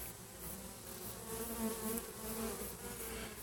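A swarm of honeybees kept by a first-summer backyard beekeeper drones steadily all around, a dense continuous buzzing that swells and dips slightly without pause.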